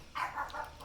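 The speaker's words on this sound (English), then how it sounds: "Low, that's enough barking" A dog gives a short burst of two or three quick, soft barks, faint and somewhat distant, with no talking over them.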